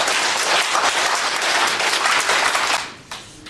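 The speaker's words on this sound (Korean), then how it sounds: "박수를 한번 쳐봅시다" Crowd at a Korean lecture gathering claps together in a dense burst of applause that holds loud and steady, then quickly fades out near the end.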